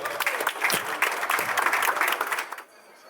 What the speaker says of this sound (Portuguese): Palmas para o Éder, por favor.